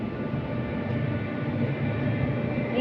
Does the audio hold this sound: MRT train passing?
yes